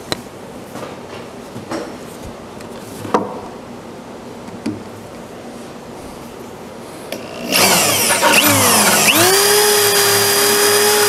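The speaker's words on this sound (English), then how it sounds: "I'm going to try getting through the top with a big Forstner bit." A large Forstner bit driven by a power drill bores through a wooden tabletop for a belt sander table, starting after a few quiet knocks and building into a loud, steady grinding whir with a rising then falling pitch sweep.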